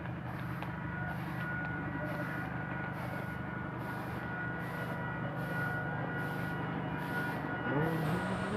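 Balasore–Kharagpur local train arriving at Lakhannath railway station near the Odisha–West Bengal border, a steady low rumble of rolling wagons with rhythmic repeating electronic beeps and a brief squeal near the end.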